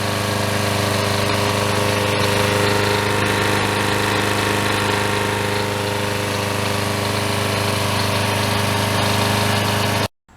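A Troy-Bilt self-propelled lawn mower with a 6.75HP Briggs & Stratton engine runs steadily at close range, a loud constant buzzing drone with vibration for about ten seconds before cutting off abruptly.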